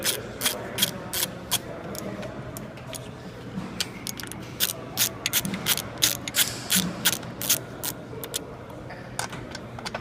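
A ratchet wrench snugging bolts on a heavy duty transmission during an input shaft replacement, giving repeated bursts of sharp, close clicking strokes in an uneven rhythm across a quiet shop.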